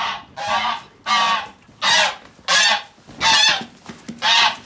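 Mast geese on a farm give a run of seven loud, harsh honks in a steady rhythm, each call about half a second long with short gaps between, close to the listener.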